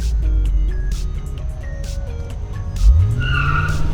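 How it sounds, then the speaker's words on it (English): Tires on a powerful Mercedes convertible squeal and burn rubber during a hard test-drive pull, a loud, close screech rising out of a steady engine roar. "Oh yeah, do you hear that burn rubber?"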